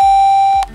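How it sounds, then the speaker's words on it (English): A NuVending NuBoom Bluetooth speaker powers on with one loud, clean electronic beep held for over half a second. A low thump comes at the start and again near the end as the tone cuts off. "I'm going to turn this on and pair it to my phone"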